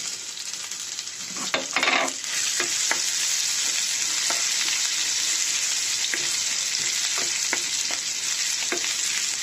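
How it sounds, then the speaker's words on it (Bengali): Whole cumin, cinnamon pieces, ginger and garlic sizzle steadily in hot oil in a pan, a loud continuous fry broken by a few stirring scrapes and clinks. "এটা আমি একটু ভেজে নেব।"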